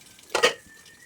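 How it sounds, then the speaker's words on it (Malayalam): A metal spoon pokes and clinks against idli in a steamer pot, a single short scraping clatter, close and clear with no voices. "സ്പൂൺ കൊണ്ട് കുത്തി നോക്കാം."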